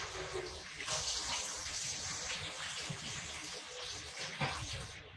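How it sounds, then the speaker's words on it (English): Shrimp being rinsed under a running kitchen tap, a steady close gush of water that flows without a break, with a few brief louder splashes as the shrimp are moved through the stream. "you definitely mainly want to rinse your shrimp off because that's seafood"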